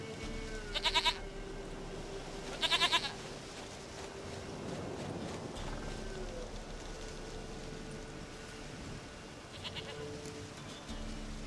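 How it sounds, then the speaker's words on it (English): A goat bleats in The Witcher 3: Wild Hunt, several short nasal bleats in quick pairs early on and one more later, over a steady patter of rain and a faint ambient background. "Goat of mine, dearest, sweetest goat."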